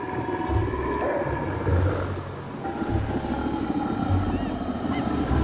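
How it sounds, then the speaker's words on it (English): In the video game Don't Starve, birds call with repeated honking, goose-like cries over a steady ambient game background, moderately loud and without talk. "A lot of birds over here."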